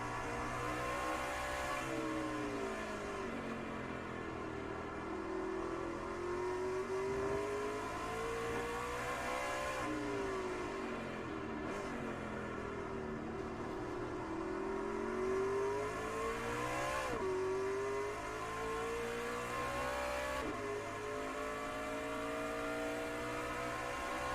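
Race trucks in the iRacing Truck Series at COTA, engines droning continuously and rising and falling in pitch as they accelerate and shift, heard from an onboard view without break.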